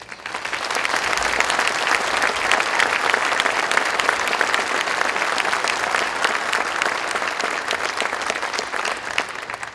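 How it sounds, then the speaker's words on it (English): Loud, sustained applause from a large crowd at a national cemetery dedication ceremony, steady clapping throughout with no talk over it. "I believe Chief Master Sergeant Sky deserves a special round of applause."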